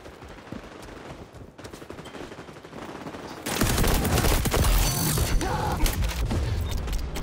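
Gunfire with flame bullets in the XDefiant shooter game, a quiet stretch of clicks and mechanical handling that bursts into loud, dense, sustained firing and crackle for the last few seconds.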